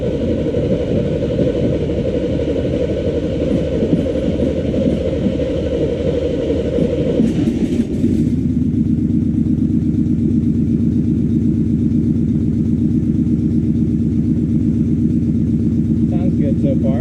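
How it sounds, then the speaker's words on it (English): A 1979 Corvette C3 V8, raised on a jack with fresh spark plug wires, cold-starts and settles into a loud, steady, rumbling idle that runs evenly and close for the rest of the clip. "Alright, let's give this a cold start."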